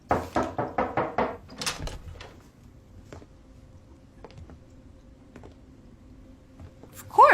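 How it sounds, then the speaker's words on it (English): A run of about six sharp knocks on a hotel room door, close and loud, followed by a quiet room with faint scattered clicks and a low hum. "someone knocked on the door"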